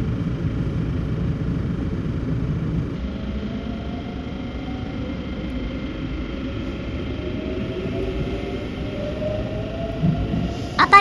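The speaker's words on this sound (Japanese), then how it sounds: "JR 宮牧駅停車中に近鉄線の電車が停車、そして通過していました。" A Kintetsu Line train halting and then passing beside a JR local at Miyamaki Station, a steady low rumble and rolling drone heard from inside the carriage, with a faint rising whine and a couple of clunks near the end.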